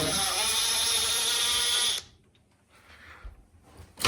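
A power screwdriver whirs loudly and steadily for about two seconds while removing a stopper screw on an Electrolux speed oven, then stops, leaving faint handling clicks.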